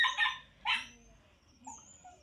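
A dog gives a few sharp barks close by, two quick yaps early on, then a softer whimpering yip after a pause, in a quiet household setting.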